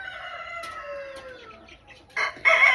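Backyard chickens cluck and a rooster crows close by, a drawn-out call followed by two louder, sharper bursts of clucking near the end.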